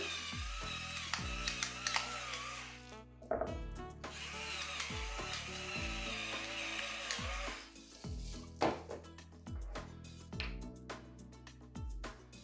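A chuck roast is set into a crock pot and seasoned with salt and pepper, heard as scattered ceramic clinks, knocks and utensil clatter at close range, with quiet handling noise between the hits.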